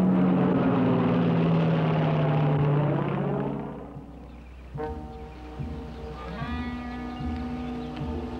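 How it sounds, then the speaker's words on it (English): A propeller airplane circles overhead above a search area, its steady engine drone loud at first, then fading into a lower, more distant hum with faint tonal whine. "plane keeps circling the entire area"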